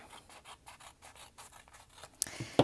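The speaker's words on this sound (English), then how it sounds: "I won't use my ruler, but I can cut it this way" Scissors snip through a sheet of foam-marbled paper for a Valentine card, cut freehand with no ruler, giving a run of quiet, rhythmic crisp strokes that end with a couple of louder clipped cuts.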